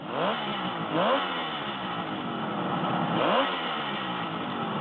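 A 1974 Kawasaki S3 400 motorcycle engine revs up sharply in three quick bursts, each rising then falling back toward a rough idle, loud and close throughout.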